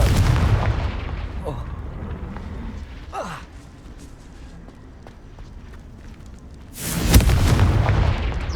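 A Confringo blasting spell from Hogwarts Legacy erupts in a loud, close burst of booming explosive noise, with an earlier crackling blast and lighter magical whooshes before it.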